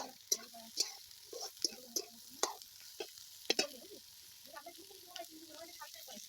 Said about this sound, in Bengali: এবার আমরা ওর মধ্যে ক্যাপসিকামটা দিয়ে দেব আমরা নির্দিষ্ট পরিমাপ মতন আমরা ভাজবো